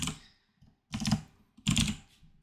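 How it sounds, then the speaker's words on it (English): Someone types on a computer keyboard in three quick bursts of clicking keystrokes separated by short pauses, close and fairly quiet. "So you type in whatever the question is."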